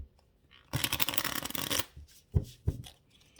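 Tarot cards are shuffled in one quick, papery riffle burst lasting about a second, followed by a couple of soft taps as the deck is handled, close and fairly quiet.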